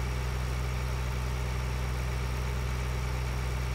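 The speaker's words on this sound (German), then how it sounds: "Der Traktor läuft weiter, aber das Licht geht automatisch aus." A tractor engine idles steadily in Farming Simulator 2013, a constant low mechanical drone with a faint whine, unchanging throughout and with no other sounds.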